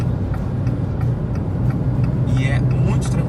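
A diesel Jeep Renegade Moab accelerates on a highway to overtake, its engine a steady low hum beneath road and wind noise while someone talks over it.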